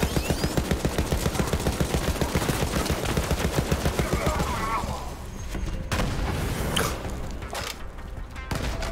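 Sustained automatic gunfire in Borderlands 3, a fast, even stream of close, loud shots for several seconds that then breaks into scattered single blasts and heavier booms amid busy game noise.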